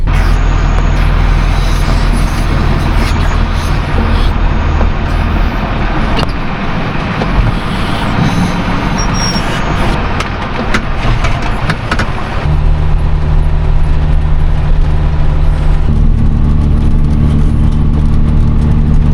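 A farm truck hitched to a hay trailer runs with a loud, close engine rumble that holds steady throughout, its tone shifting partway as the load of the engine changes.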